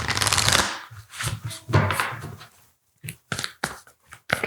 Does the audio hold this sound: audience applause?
no